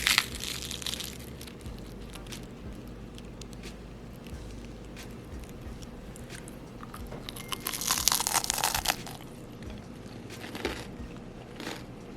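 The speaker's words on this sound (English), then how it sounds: "Now listen for the crunch." Crisp crunching as someone bites into and chews a fried gluten-free cassava meat pie, close up, with soft chewing between louder bursts of crackle.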